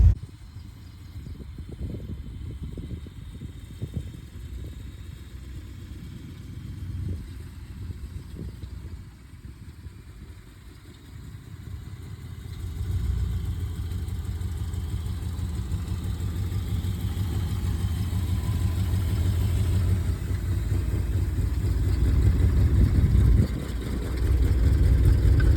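A Ford F-250 pickup truck engine, previously locked up, idles roughly with uneven low thumps, then settles into a louder, steadier rumble that holds near and constant.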